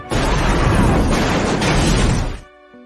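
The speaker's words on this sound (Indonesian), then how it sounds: "Chris menembak sebuah tangki minyak yang membuat rumah itu terbakar dan meledak" A house explodes in a film scene after an oil tank is shot, a loud sustained roaring blast that rumbles for about two seconds before cutting off into quiet.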